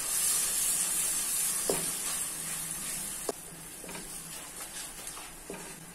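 Onion-tomato paste with Kashmiri chili powder sizzles in a kadai for kadai paneer, a constant hiss broken by a few sharp scrapes and knocks of a spoon being stirred.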